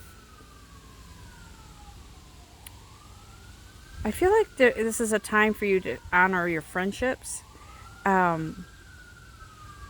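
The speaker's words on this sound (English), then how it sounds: "There is some ambulances going by." Ambulance sirens wail somewhere in the distance, sweeping up and down in long slow cycles, while someone speaks close by over the top, her voice partly masking the faint siren.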